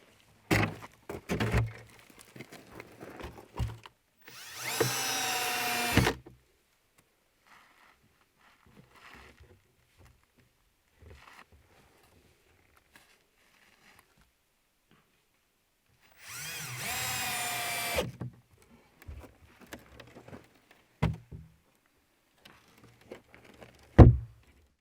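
Two bursts of a power drill whirring as it drives screws into a door, a few seconds each, separated by quiet stretches with scattered knocks and handling clatter.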